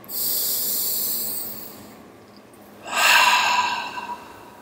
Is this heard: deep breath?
yes